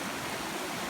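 Floodwater after heavy rain pours into rice fields near a concrete-based bridge, producing a dense, continuous rushing roar that is loud and close, with no voices over it.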